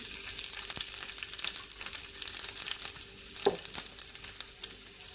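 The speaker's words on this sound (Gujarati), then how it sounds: "તેલ સરસ એવું ગરમ થઈ ગયું છે. આપણે સૌથી પહેલાં તો તેલમાં ઝીણું સમારેલું લસણ એડ કરી દઈશું." Finely chopped garlic hits hot oil and fries with a steady, close hiss and crackle, with a brief louder spatter near the middle; no one speaks.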